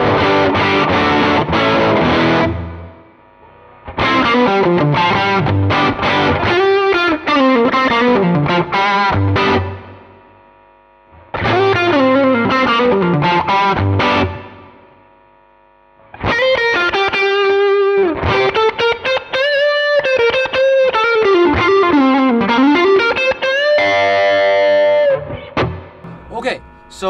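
Electric guitar through a Cornerstone Gladio preamp pedal on channel 1 plays loud, driven phrases with sustained bent notes and pauses between bursts, close and alone.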